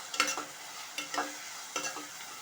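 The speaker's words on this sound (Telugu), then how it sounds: "ఈ టమాటాలు కూడా ఒక 2 నిమిషాల పాటు ఇలా కలుపుకుంటూ వేయించుకోవాలి." Chopped tomatoes stirred and fried in oil for gonguura chutney, a faint background sizzle broken by three clusters of spatula scrapes and taps against the pan, no voices.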